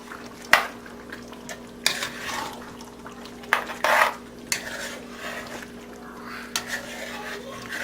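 A pork loin stew with tomatoes and potatoes is stirred in a pot: a few sharp spoon clanks and scraping passes over a steady low hum, near and without talk.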